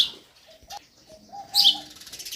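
Sparrows chirp in the early morning outdoors: a few short, bright tweets and thin calls, with one sharper burst of chirping in the middle, fairly close and with no talk over them.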